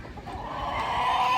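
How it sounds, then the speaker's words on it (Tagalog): A flock of chickens clucking steadily nearby, a continuous busy chatter that grows slightly louder. "andito ang ating mga manok"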